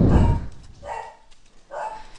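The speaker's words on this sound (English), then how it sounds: "my dog just scared the death out of me" A pet dog at home gives a couple of sharp barks, a loud burst first, then two more spaced yips, close to the microphone and heard alone.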